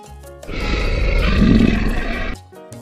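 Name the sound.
lion roaring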